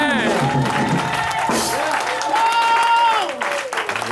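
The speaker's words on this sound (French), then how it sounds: "Give a clap of it to Jesus." A church audience at a service in Aachen, Germany, claps steadily for Jesus, loud dense applause under a voice and crowd murmur.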